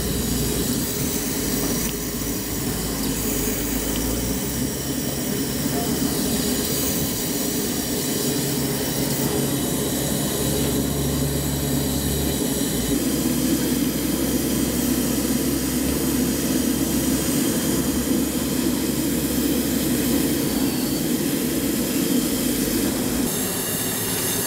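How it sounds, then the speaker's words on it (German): An injector feeds water into the boiler of a 5-inch gauge, 1:11 scale model steam locomotive, DB class 01 202, during a test firing: a loud continuous hissing rush with shifting low hums and tones across about half a minute. "Hier können Sie sehen, wie wir injektieren. Dabei wird der Injektor mehrfach bei unterschiedlichem Kesseldruck geprüft."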